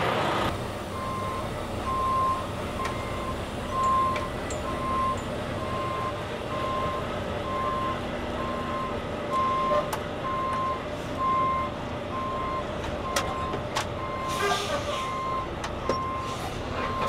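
Reversing beeps from a truck backing up at a recycling yard scale, repeating in a regular rhythm at moderate distance over engine rumble and yard noise, with scattered clanks later on.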